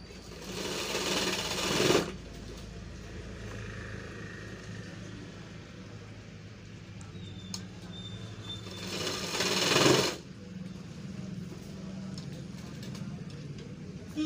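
A sewing machine stitches a belt loop onto trousers in two loud bursts of rapid, even whirring. Quieter stretches fill the gap between them, where a person talks.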